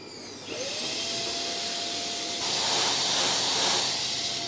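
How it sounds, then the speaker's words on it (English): A drill bores into a heavy flywheel to lighten its heavy side for balancing in a machining workshop. A steady whining hiss begins after a brief pause and grows noticeably louder partway through, continuing without break. "so we're going to drill that side that's too heavy to lighten it to make it balanced"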